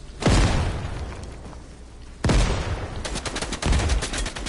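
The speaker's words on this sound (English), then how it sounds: "I'm gonna try to use one gun, which is my shotgun. Or actually, and I'm gonna use dynamite too." Shotgun blasts and dynamite explosions in a video game: two heavy booming shots a couple of seconds apart, each with a long rumbling decay, followed by a rapid rattling burst and another loud blast.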